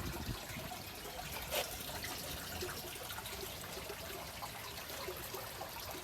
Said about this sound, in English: water flowing through into the radial flow filter